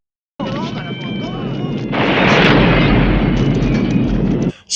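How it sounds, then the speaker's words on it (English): Army truck blowing up a gas station in the film First Blood: a dense, roaring explosion swells and grows louder partway through, then cuts off abruptly near the end, with a voice briefly audible over it. "Explosions. Gotta like me some explosions."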